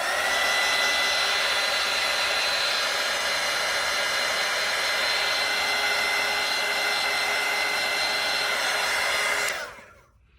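A hair dryer blows steadily on wet watercolor paint, a loud close whirring hiss that holds for about nine seconds and then cuts off sharply into silence.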